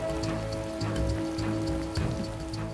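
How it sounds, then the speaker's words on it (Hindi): Heavy rain pounds steadily on surfaces through a scene from a Hindi-dubbed South Indian action movie, a dense continuous patter with scattered louder drops, close and without talk. "जोरों की बारिश हो रही थी।"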